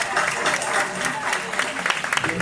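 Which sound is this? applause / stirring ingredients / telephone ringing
applause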